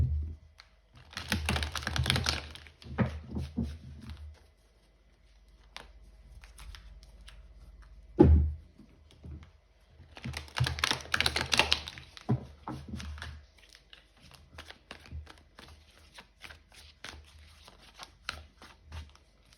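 Tarot cards shuffled and drawn, two dense bursts of riffling and flicking with a single sharp knock between them, followed by scattered soft card slides, close and alone without talk.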